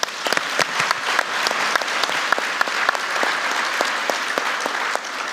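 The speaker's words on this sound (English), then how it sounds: "give yourselves all a big round of applause." A room of WSO2 staff applauds together at a company anniversary gathering, a dense, steady wash of many hands clapping at moderate distance that holds evenly throughout with no voices rising above it.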